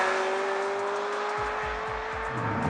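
Ferrari F355 GTS V8 engine running on a small Belgian country road with the roof open, a steady loud drone with a sharp whine and rhythmic low pulses as it pulls, no voices.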